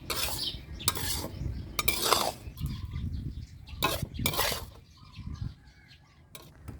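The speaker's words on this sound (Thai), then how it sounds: "ตอนนี้เรากำลังคั่วข้าวไหม้นะครับ" Burnt rice dry-roasting in a pan for Thai fermented fish (pla som), stirred with a utensil in repeated scraping strokes, close and fairly loud with irregular gaps between the sweeps.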